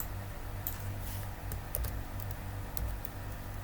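Keyboard keys are pressed for copy, paste and escape shortcuts on a computer, a few faint, quick clicks over a steady low hum.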